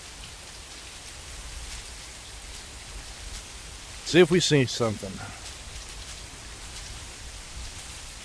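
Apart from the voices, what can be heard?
rain falling in the woods in a VR hunting game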